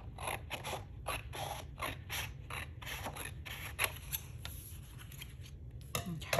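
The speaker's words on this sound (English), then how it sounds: "we're just gonna go ahead and cut this straight down the middle here" Scissors snip through printed sublimation design paper in a quick, regular series of close, crisp cuts, with a faint low hum steady underneath.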